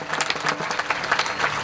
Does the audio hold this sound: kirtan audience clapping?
yes